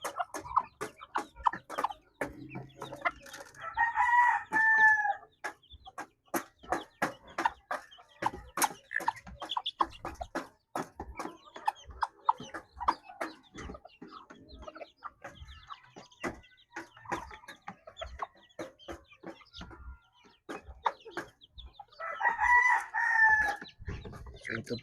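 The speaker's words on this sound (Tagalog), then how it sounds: "Ito yung aking puting manok." A mixed backyard flock of bantam and native chickens clucks in quick, scattered bursts. A rooster crows loudly twice, once early and once near the end.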